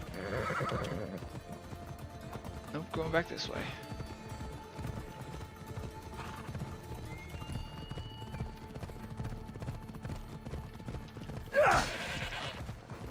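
In a video game, horse hooves clip-clop steadily, and a horse whinnies loudly twice, near the start and again near the end, with a brief spoken remark partway through.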